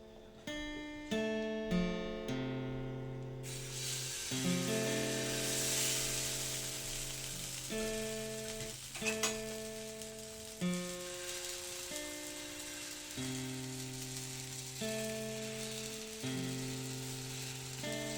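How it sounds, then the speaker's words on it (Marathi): Steady sizzling of dosa batter spread on a hot griddle over a medium flame, a soft crackling hiss that runs beneath louder background music throughout. "तवा चांगला तापला आहे थोडासा. मी मीडियम फ्लेम करते आणि त्याच्यावरती पीठ टाकते."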